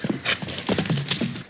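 A horse trots in Kolkata, its hooves striking in a quick, uneven clip-clop close by, with a brief whinny-like vocal sound mixed among the steps.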